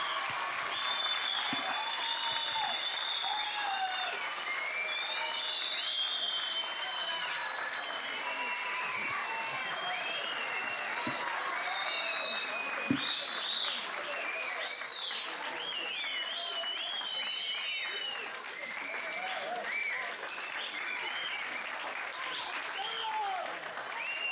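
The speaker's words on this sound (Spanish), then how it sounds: "Vamos a darles a nuestros chicos un gran aplauso que se lo merecen." Audience applause at the end of a stage show, a dense, sustained clapping from a full crowd that fills the whole stretch at an even level, with some voices mixed in.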